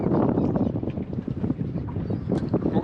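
Gusty wind buffets a slow-trolling bass fishing boat on a Tennessee lake, a steady, loud broadband rumble with surging swells and no voices.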